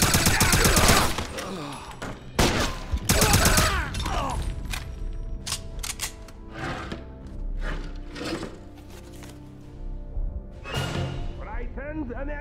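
Gunfire in the Wolfenstein video game crackles in loud bursts and single shots from close by. Sharp reports repeat rapidly across the scene while combat voices shout in between.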